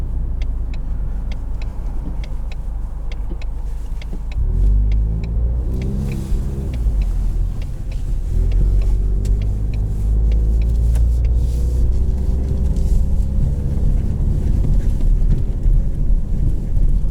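A 2020 Ford Mustang EcoBoost automatic with performance exhaust, driving in sport mode, heard from inside the cabin as a loud, steady engine drone that rises in pitch as it accelerates, with road rumble underneath.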